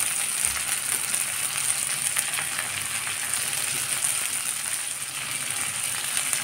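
Chopped medium tomatoes added to onions fried until reddish, sizzling in a pan for a village-style egg tadka, a steady close crackling hiss with no talk.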